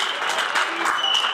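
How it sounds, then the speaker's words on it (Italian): Crowd applause for the boxers after a regional tournament final bout in Veneto, a dense, steady wash of clapping throughout this short stretch, with a voice faintly over it. "penso che meritiate l'applauso forte ancora prima di conoscere il verdetto"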